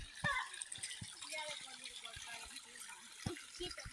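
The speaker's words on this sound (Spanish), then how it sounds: "Ya llegamos al río." River water running and splashing nearby, a soft continuous gurgle at low level with scattered clicks and people talking over it.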